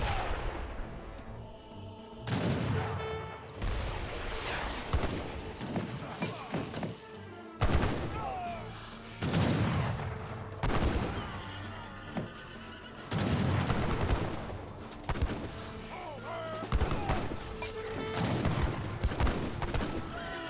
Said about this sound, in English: Artillery now raining on.